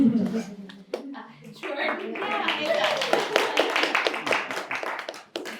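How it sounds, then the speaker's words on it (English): Audience clapping at a development talk event, a dense burst of hand claps building after a short pause and continuing steadily, fairly close, with voices mixed in. "that deserves applause"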